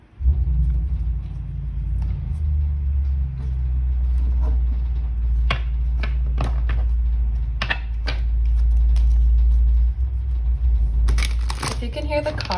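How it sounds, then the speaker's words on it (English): A car passes outside, a steady low rumble of road noise that swells and fades in the background, with brief clicks and shuffling close by. "If you can hear the car outside, I apologize."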